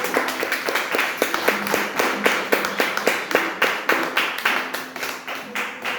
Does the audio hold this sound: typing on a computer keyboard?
no